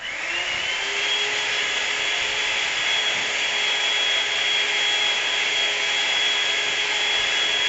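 An electric mixer beats egg whites with sugar at high speed for a tres leches cake, giving a steady, loud whirring hum with no breaks that holds evenly from start to finish.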